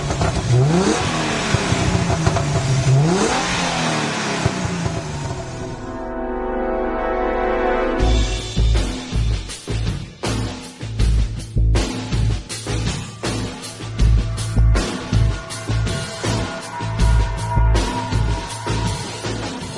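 A Hyundai Genesis Coupe with the 303-horsepower 3.8-litre engine revs up loudly while driving, then drops off. After a short pause come a series of punchy, pulsing engine bursts and surges close by.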